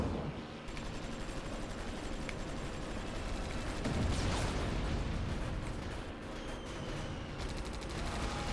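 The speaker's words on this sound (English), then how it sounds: "Oh, they're bombing." Bombing run in the video game Air Conflicts Secret Wars: dense, continuous barrage of explosions and gunfire, loud and steady throughout with a heavier swell of blasts near the middle.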